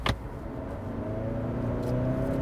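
A 2022 Hyundai Santa Cruz pickup in normal drive mode accelerates from inside the cab, a steady engine rumble building after a brief lag, with a short click near the start.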